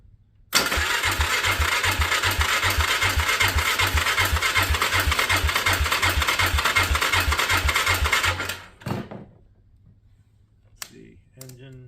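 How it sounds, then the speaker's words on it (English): A 2010 Polaris 400 AWD ATV engine cranks steadily for about eight seconds with a fast, even chugging rhythm but never catches. It then stops, leaving a few faint clicks and knocks. "we're gonna see if this thing fires over"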